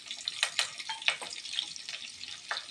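Shallots, green chili and curry leaves crackle in hot oil, with close, busy frying spatter and a few sharper pops, heard alone.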